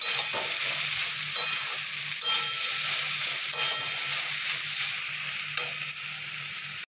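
Soybean chunks frying with onions in a pan, a continuous close hiss of sizzling oil with repeated spatula scrapes and taps against the metal, no voices, cutting off abruptly at the end.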